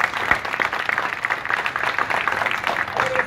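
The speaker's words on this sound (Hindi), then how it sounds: "एक बार पहले मैं अपनी टीम से आपके लिए ताली बजाना चाहता हूँ" Audience at a street play (nukkad natak) on cleanliness in Delhi claps for the performing team, a dense, steady patter of many hands sustained throughout with some voices mixed in.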